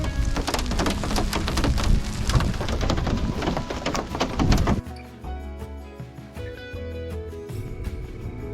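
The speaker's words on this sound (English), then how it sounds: "I'm caught in a thunderstorm." A thunderstorm pours heavy rain in a dense, steady hiss with rumbling thunder underneath, then the rain thins abruptly into quieter, scattered dripping.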